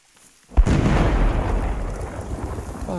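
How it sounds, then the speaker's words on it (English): A sudden video-game thunderclap booms in after a brief quiet, then rolls on as a long, loud, rumbling roar. "That is some of the best sounds I've ever heard in a game, though. That's really nice, that thunder."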